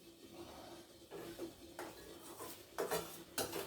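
Mashed moong dal mixture being stirred in a pan for kara moong dal mini idli, with a spoon scraping and clinking against the metal in soft, irregular strokes that grow a little louder toward the end.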